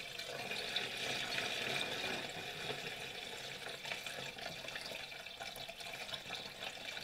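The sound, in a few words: fuel poured through a funnel into a snowmobile tank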